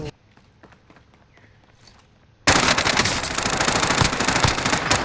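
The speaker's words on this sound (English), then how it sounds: "I'm taking fire! Oh my god! Hostile fire!" Video game gunfire bursts in sudden loud, dense automatic volleys after a quiet stretch of faint footsteps and scattered shots.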